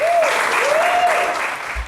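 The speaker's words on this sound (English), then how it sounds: "By quick round of applause, how many people here have actually had a chance to go to either Buffalo or Lansing" An audience at a baseball talk claps in a brief, dense burst of applause while a voice speaks over it.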